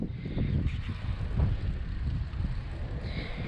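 Steady, loud wind buffets the microphone while riding a RockRider ST30 mountain gear bike outdoors at sunset, a continuous low roaring rush with no talking.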